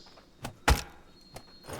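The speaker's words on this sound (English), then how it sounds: "Cottage door is going in place." A wooden cottage door being set into place while building in the survival game Aska: a few soft knocks and one heavy thunk, near, with light wooden clatter after and no voices.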